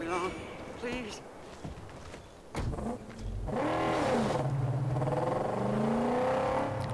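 A car engine in the Mad Max game, fitted with a new V6, revs up and builds into a loud sustained drone in the second half, with someone talking over it in the first part.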